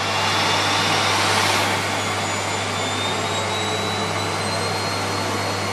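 A Miele C3 vacuum cleaner runs at maximum suction, a loud, steady whooshing roar with a constant low hum and a faint rising whine, close to the microphone and without talk.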